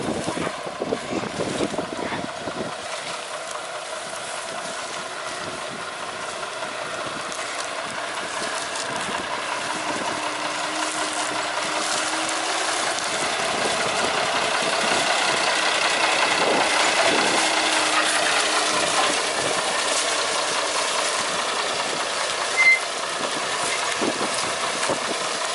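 Sugar cane railway locomotive on a track toward Jombang, run by the Semboro sugar mill, drones steadily as it pushes through tall grass. Wind buffets the microphone, and the engine swells slightly toward the middle.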